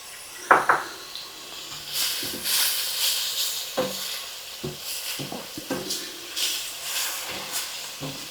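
A spoon scrapes and knocks in a pot as garlic powder and dried basil are stirred into simmering tomato soup. Soft hissing sits under a few irregular clunks, close by, and no one speaks.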